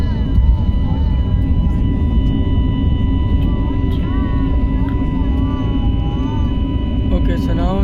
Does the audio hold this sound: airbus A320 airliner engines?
yes